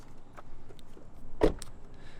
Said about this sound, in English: let's lock the doors